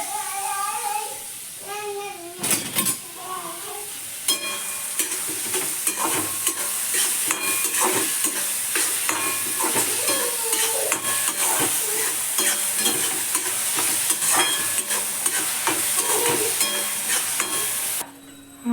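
Onion and green chillies fry in hot oil for a green corn curry, a continuous close sizzle with repeated spatula scraping and stirring, dropping away briefly just before the end.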